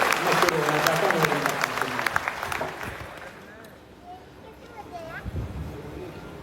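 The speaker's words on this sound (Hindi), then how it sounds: "मुझे तालियों से आदेश कर दीजिए पीछे सबके लोग।" Audience applause at a jayanti celebration, a dense burst of many hands clapping that fades after a few seconds, with crowd murmur and voices continuing underneath.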